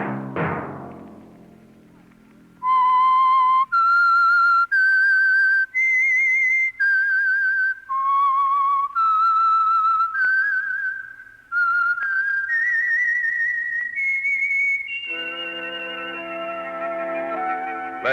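The Whistler radio program's theme tune, whistled loudly and clearly, a string of sustained, sliding notes in phrases, ending with a swell of orchestral music.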